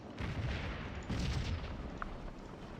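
Artillery cannon fire in the Scourge of War video game, depicting the Battle of Stones River. A few dull, muffled booms land about a second apart and sound fairly distant and soft under a steady background wash.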